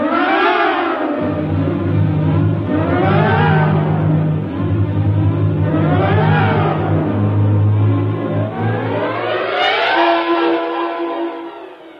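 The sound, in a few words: spaceship capsule engine running, radio drama sound effect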